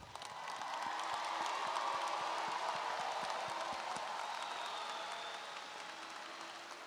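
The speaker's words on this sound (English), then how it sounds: "How about one round of applause for our class of 23?" Sustained applause from a commencement crowd for the West Ashley High School class of 2023, a broad steady wash of clapping across a large audience that swells and then slowly tapers.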